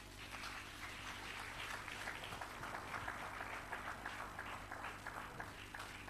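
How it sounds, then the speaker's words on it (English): Faint, distant applause from a crowd at the closing ceremony of a teacher training institute in Nigeria, a steady, even wash of many hands clapping that runs throughout without pause. "I would love that applause continue."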